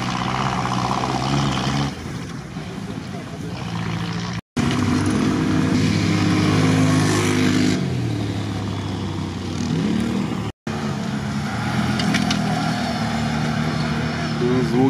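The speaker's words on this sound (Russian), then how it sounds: "Шикарно мотор работает просто." Off-road vehicle engine running hard during a lap race at a trophy off-road event, a loud steady roar with shifting pitch, heard close and continuous under excited commentary.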